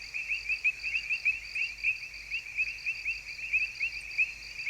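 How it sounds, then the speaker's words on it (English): A wild frog's pulsed calls repeat steadily in a rapid, rhythmic trill, moderately loud against a quiet outdoor background with no talking. "Frog."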